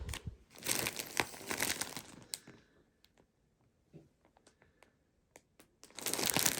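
Plastic packaging around wrapped towels crinkles loudly in bursts at the start and end, with scattered sharp rustles and taps between during a quieter stretch, close to the microphone.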